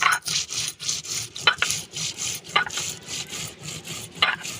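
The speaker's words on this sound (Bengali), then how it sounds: "গোটা জিরে, গোটা ধনে আমি বেটে নেব একসঙ্গে করে" Whole cumin and coriander seeds ground together on a stone slab, a steady rhythmic rubbing and rasping of stone on stone, close and moderately loud, with repeated back-and-forth strokes and no voices.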